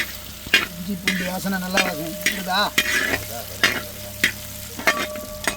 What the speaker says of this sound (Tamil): எல்லாம் இந்த சூட்லேயே அழகாக பொறிஞ்சு வரணும்